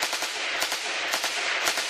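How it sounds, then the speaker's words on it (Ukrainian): Rapid, sustained bursts of machine gun fire from soldiers shooting into treelines, loud and close, with rhythmic cracks repeating steadily and no voices. "Стріляють просто по зеленці, аби налякати та відігнати диверсантів."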